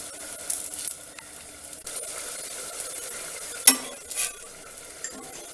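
A ragi roti cooks on a lightly oiled pan with a quiet, soft sizzle, broken by a sharp utensil scrape or clink partway through.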